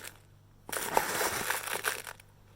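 A level teaspoon of loose tea is scooped into a strainer sitting in a glass mug, making a close, dry crunching rustle that lasts about a second and a half with no talk over it.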